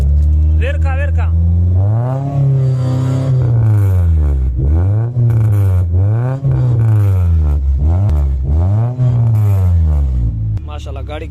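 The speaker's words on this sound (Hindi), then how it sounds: "गाड़ी का साउंड मैंने आप लोग को चेक करवा दिया, बहुत ही ज़बरदस्त साउंड, स्पोर्ट्स।" The engine of a 2002 Honda Civic in very good condition, revved over and over. Each rev swells and falls back in a loud, close, rhythmic cycle, and it keeps going for the whole stretch.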